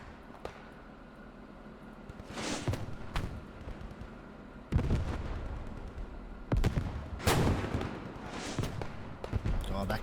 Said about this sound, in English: That cannon sounds amazing, doesn't it?